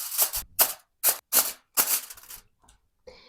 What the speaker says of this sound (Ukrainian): Зубочисткою роблю дірочки